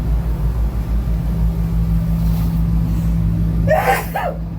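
A single sharp sneeze bursts out near the end, over a steady low engine rumble.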